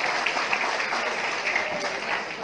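A room of guests at a police station's breaking-of-the-fast gathering and thanksgiving claps together, a dense, even burst of applause that carries steadily throughout.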